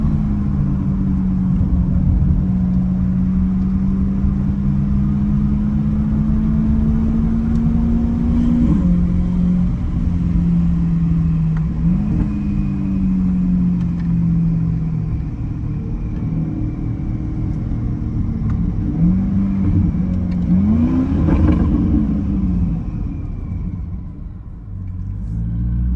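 A twin-turbo Chevrolet Corvette E-Ray rumbles along at low speed with a passenger window down, its engine droning steadily with rising and falling tones as it gently accelerates and eases off, loud and close.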